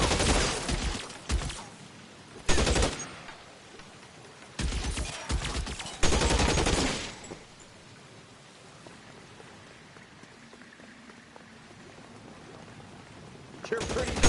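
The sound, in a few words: gunfire in video game L.A. Noire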